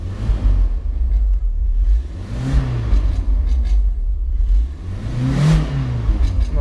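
A Chrysler LeBaron Turbo engine hanging at high revs, a loud close droning roar with two rising and falling surges, steady and unrelenting throughout.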